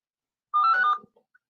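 A phone ringtone plays once, a short bright electronic melody lasting about half a second, with a couple of faint blips after it in an otherwise quiet room.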